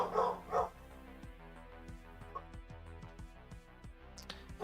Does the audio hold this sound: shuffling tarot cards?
no